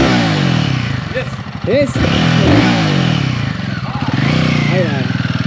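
A Royal Enfield motorcycle engine starts and revs on a road trip in India, its low throbbing rumble running steadily throughout under nearby voices talking briefly.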